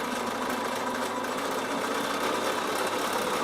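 Steady, continuous motor hum of a Bernina sewing machine stitching a seam, close and unbroken throughout with no talking.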